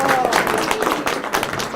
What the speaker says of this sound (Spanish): un fuerte aplauso para el compañero Martín Molina